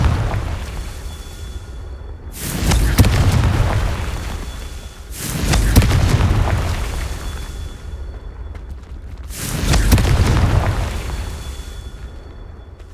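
Confringo blasting spell explosions in the game Hogwarts Legacy during a Merlin trial: three loud, booming blasts about three seconds apart, each a sharp burst that rolls into a long rumbling decay, with no voices.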